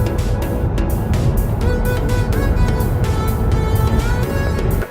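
A Kia Sportage GT Line S hybrid drives along, its engine and road noise forming a loud, steady rumble with a faint rhythmic pulse throughout.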